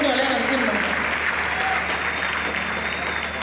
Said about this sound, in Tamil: வேலையை விட்டதுக்கு முதல்ல கைத்தட்டின கூட்டம் இந்த கூட்டம் தான்.